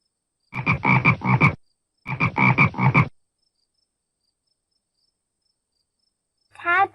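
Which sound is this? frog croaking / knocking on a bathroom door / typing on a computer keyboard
frog croaking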